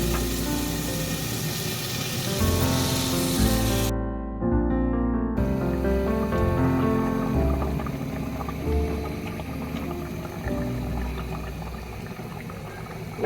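Masala sizzling and bubbling in oil in a pot as dry ingredients go in one by one, a loud, close, continuous bubbling fry broken by a brief silent gap and then resuming, with no talk.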